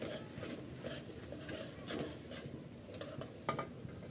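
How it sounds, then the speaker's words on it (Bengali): Whole garam masala, cloves and torn bay leaves frying in oil for spicy pilau, with stirring scrapes and utensil clinks against the pan over a steady low sizzle, no talking. "গরম মশলাটা একটু তেলের সাথে কষিয়ে নিচ্ছি একটু ভেজে নিচ্ছি"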